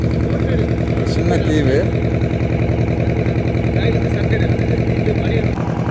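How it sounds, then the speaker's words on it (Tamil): A boat engine drones loud and steady throughout, motoring toward a small island on the reservoir at Mettur, with a brief spoken remark over it. "இந்த சவுண்டு, இன்ஜின் சவுண்டு அதிகமாக வருது."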